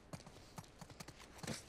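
Steady clip-clop of horse hooves in The Last of Us, a quick irregular run of hoof strikes at moderate loudness with no talking.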